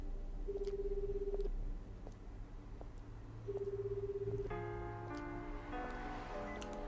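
A mobile phone keypad dialing out: two steady electronic tone blocks separated by a pause, then a burst of rapid dial tones, close and clear over a faint street background with no talk.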